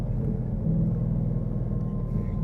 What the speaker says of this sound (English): this is the downshift, the smoothness of this